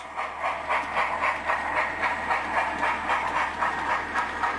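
A Hornby Lord Nelson model steam locomotive runs along a layout and over track isolators, giving a soft rhythmic chuffing with faint wheel clicks, quiet and steady with no voices.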